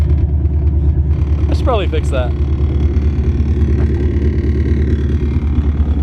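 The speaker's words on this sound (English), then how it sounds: "we'll listen to hear how this sweet idle sounds" A Nissan Skyline R33 with an RB26 engine and aggressive cams idles in a choppy, lumpy rhythm, loud and close throughout, while a person speaks briefly over it.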